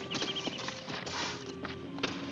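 Horses' hooves clip-clop in a 1967 Western-style film scene, several quick irregular hoof strikes at moderate distance, fairly quiet, with no talking.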